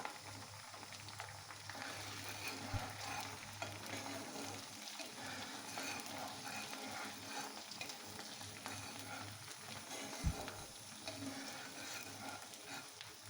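Garlic and ginger fry in oil until reddish, giving a continuous soft sizzle and bubbling with occasional stirring, heard at low level and fairly steady throughout.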